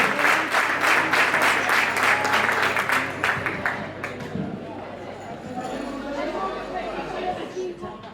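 Audience applause for a player at a women's foosball all-star event in Lugo, a dense burst of clapping that thins into scattered claps and crowd murmur with some talk underneath.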